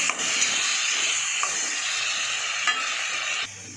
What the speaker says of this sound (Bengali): সামান্য একটু জল দিয়ে দেবো, দিয়ে কষে নেবো ভালো করে